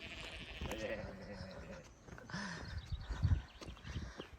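Sheep bleat along a Snowdon mountain path, a few short wavering calls in the first seconds, mixed with wind and people chatting nearby.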